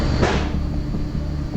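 A warehouse freezer door opens or closes with a short sliding thud over a constant loud mechanical hum.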